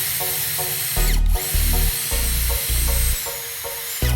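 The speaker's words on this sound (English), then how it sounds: "Now I use a drill to make a small hole exactly at the marked point in the center of the" A power drill bores a small hole in mesh, loud whining bursts that start and stop repeatedly in short pulses, close up with no talk.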